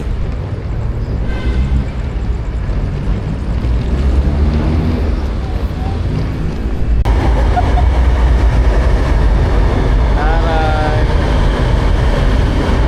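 An LRT light rail train rumbles along with steady low mechanical noise, brief squeals and clatter, and faint voices of passengers underneath.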